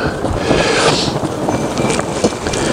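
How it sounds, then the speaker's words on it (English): Strong gusty wind buffets the microphone outdoors during a cold-smoking cheese session, a loud continuous rush with surges and brief knocks, and no speech. "The wind is just terrible out here"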